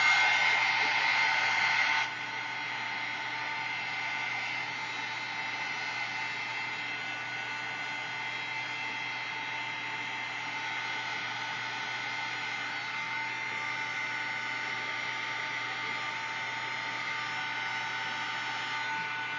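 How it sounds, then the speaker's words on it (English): A heat tool blows steadily, melting embossing powder on a flower stencil for mixed media art, a continuous loud whooshing drone that runs unbroken, slightly louder for the first two seconds before settling to an even level. "I'm going to heat up right here with a heat tool."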